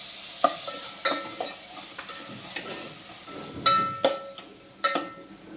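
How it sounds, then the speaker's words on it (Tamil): Quiet stirring and scraping of onions sautéing in a pan, with a few sharp metallic clinks of a utensil against the pot over a low sizzle; no voices. "வெங்காயம் கொஞ்சம் வதங்கட்டும்."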